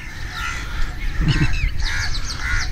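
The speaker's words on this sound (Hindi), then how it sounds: "ये कौवा आया जी" Crow cawing nearby, several harsh rasping calls spread across the moment over a low outdoor rumble.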